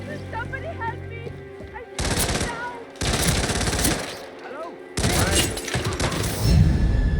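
Rapid automatic gunfire in Hitman World of Assassination, loud sustained bursts of shots broken by brief pauses, close and harsh, with a voice underneath early on.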